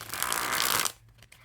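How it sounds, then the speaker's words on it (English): A brand-new deck of Gold Bicycle 8bit playing cards being shuffled, a short close riffle of rapid crisp flutters that stops abruptly. "So I'll be shuffling these pretty much for like the first time."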